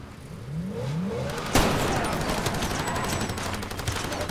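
Gunfire in the shooter Far Cry 2: a single sharp, loud crack stands out midway, followed by a rough, crackling wash of noise and a low rumble, with a faint tonal whine earlier.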